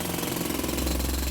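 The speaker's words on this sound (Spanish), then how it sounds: "El picador lucha contra la pared de roca con su martillo mecánico." A pneumatic jackhammer weighing 8 kilos pounds at a rock and coal face in an underground coal mine, a loud, dense, continuous rapid hammering that fills the whole short stretch without pause.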